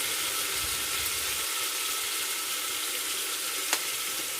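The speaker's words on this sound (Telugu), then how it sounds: "ఆయిల్లో బాగా వేగుతుంది కదా." Food frying in hot oil for a mutton curry gives a steady, loud, close sizzle that holds evenly throughout, with one small clink near the end and no talking.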